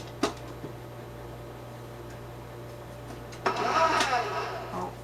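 Electric stand mixer with a paddle beating spritz cookie dough at high speed, a steady low motor hum with a few clicks, then a louder rattling churn near the end.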